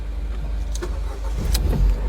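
A Ford Fiesta car's ignition key turned, with a short engine crank and start rising over a low steady rumble, close and fairly loud, with no talking.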